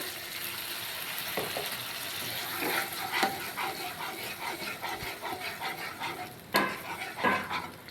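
Fried spice paste in oil with a little water added for a pointed gourd gravy, bursts of sizzling and spattering over a steady fry, with scraping stirs and sharp hisses near the end.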